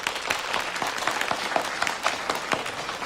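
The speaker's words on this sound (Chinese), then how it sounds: "大家鼓掌欢迎" A room of colleagues at a police meeting breaks into applause to welcome a newly arrived officer, steady, moderately close clapping from a modest group with a few sharper individual claps standing out.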